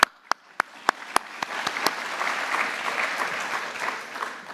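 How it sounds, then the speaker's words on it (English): Audience at an FFA annual awards ceremony claps: a few sharp isolated claps at first, then building into steady, dense applause filling the room. "clap, let's clap."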